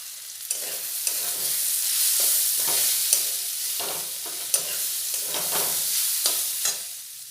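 Chowmein noodles are stirred in a pot of hot water with a series of close, rhythmic scraping and swishing strokes over a soft bubbling background, and no one speaks.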